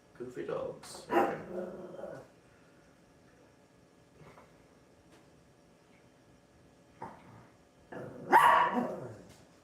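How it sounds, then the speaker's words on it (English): Dogs bark indoors in short bursts, a couple of sharp yips early on, a brief one in the middle and a louder cluster near the end, with quiet household pauses and some talk between. "Goofy dogs."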